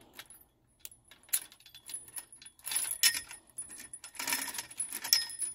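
Keys to a gate padlock jangling close by, irregular metallic clinks and rattles that start sparse and grow busier toward the end, with no talk.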